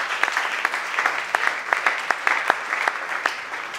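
A church congregation applauds in praise during a service, with scattered sharp hand claps in an irregular, lively rhythm, fairly close and steady.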